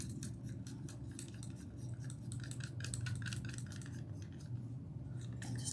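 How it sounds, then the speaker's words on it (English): A stir stick swirls through a cup of paint for pour painting, giving a faint, steady run of soft rhythmic scraping and tapping against the container. "I'm going to take one of my stir sticks and I am going to stir it up."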